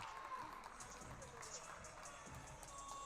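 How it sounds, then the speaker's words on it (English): Everett City fans cheer on their team at a football match, a faint, distant crowd murmur with scattered clapping and shouts, steady and low throughout. "hear the sounds of the Everett City fans as they cheer on their team"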